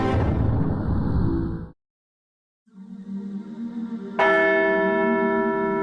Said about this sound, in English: Latin chants resounded and bells tolled as Pope Francis's coffin was carried in a solemn procession